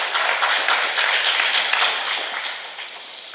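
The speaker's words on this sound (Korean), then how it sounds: "우리 후사장님 박수 한번 쳐드려야 되는 거 아닙니까?" Applause from an audience at a citizens' briefing session on the Choji station area in Ansan, a dense steady clapping that holds throughout and tapers slightly toward the end.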